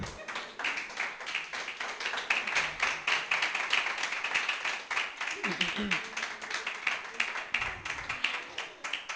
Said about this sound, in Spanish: Démosle una ofrenda de palmas al Señor, hermano.